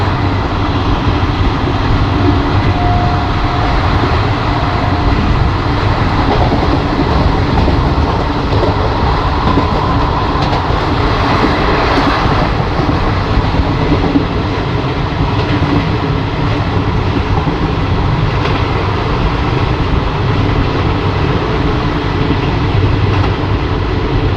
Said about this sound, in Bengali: ট্রেন বেশ ভালো স্পিডে বাগনাপাড়া বলে একটা স্টেশন স্কিপ করছে